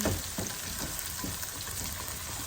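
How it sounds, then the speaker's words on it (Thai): Chili and garlic stir-fried in a pan for pork basil over rice, a dense close sizzle with soft scraping strokes of stirring, steady and alone. "คือ ผัดให้ พริกกับกระเทียม"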